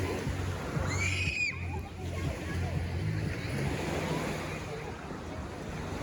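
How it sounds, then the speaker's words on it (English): Soft, continuous surf rolls in at Penang beach in the evening, a faint steady wash with a brief high bird call early on and no clear talk. "Just at evening we have come to see the beach. Beautiful beach"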